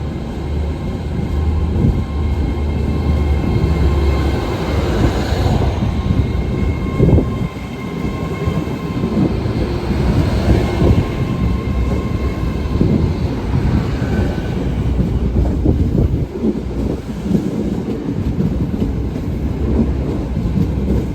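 An Avanti West Coast Class 805 train passes close by with a loud, continuous rumble and rail roar that stays steady for about twenty seconds.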